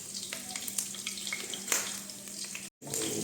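Garlic sizzles and crackles in hot oil in a pan, a busy close frying hiss broken by one brief dropout near the end.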